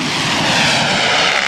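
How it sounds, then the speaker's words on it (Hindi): A Harpy attack drone flies overhead, a loud, steady propeller-engine drone that fills the whole moment without letup or talk. "हार्पी ड्रोन इस तरह से हमला करता है।"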